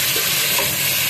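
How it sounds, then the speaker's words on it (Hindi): Goat or beef pieces frying in a pot for nihari, a steady dense sizzle and crackle of hot oil with faint stirring, close and continuous with no one speaking. "अब हम इसमें गोश्त डाल रहे हैं।"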